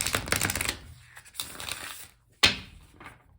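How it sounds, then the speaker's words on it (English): Tarot cards being shuffled by hand, close papery riffles and flutters in a few short bursts separated by brief pauses, ending with a sharp slap of the deck. "And then we'll go ahead and shuffle one more time, and then we'll cut."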